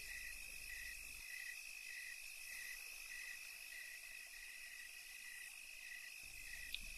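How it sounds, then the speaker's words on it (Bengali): Crickets chirp in a dark forest at night, a steady high trill with regular pulsing calls repeating throughout, faint and even against a quiet low rumble. "কালো অন্ধকারের মাঝে শুধু ঝিঝি পোকার ডাক কানে ভেসে আসছে।"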